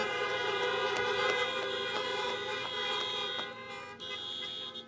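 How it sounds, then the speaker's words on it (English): A crowd of car horns honks together at a medical school commencement in celebration of nurses, a dense, sustained blare of overlapping tones with repeated short toots, loud and continuous. "how about a honk for nurses"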